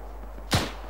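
A single sharp artillery shot booms in the Iron Front video game, one short loud burst over a steady low background hum.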